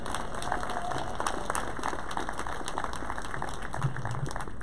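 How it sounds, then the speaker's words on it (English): An audience at a graduation ceremony applauds the teachers, producing a steady wash of clapping of moderate loudness that continues evenly over a constant background hum without a clear end. "A round of applause to them."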